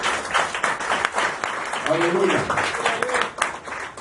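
A church congregation claps in praise, a moderate burst of applause from the gathered crowd, with a voice calling out over the clapping.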